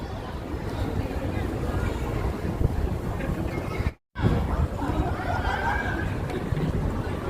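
Steady wind roars and buffets the microphone outdoors at Victoria Harbour, North Point, Hong Kong, with a low rumble throughout, briefly cutting out for a moment midway.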